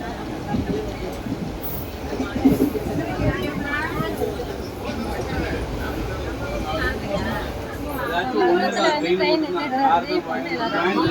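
Steady low rumble and rattle of a moving train carriage, with people chatting nearby throughout.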